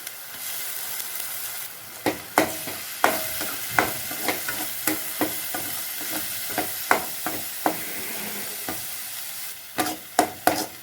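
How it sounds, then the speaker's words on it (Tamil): Onion and ginger-garlic paste with tomato paste sizzling in a pan for a cauliflower and potato gravy, with a steady frying hiss and repeated sharp scraping stirs of a spoon against the pan, close and loud. "வெங்காயம் இஞ்சி பூண்டு அரைச்சி வச்ச பேஸ்ட்டு பச்சை வாச பொருளும் நல்லா வணக்கிக்கலாம்"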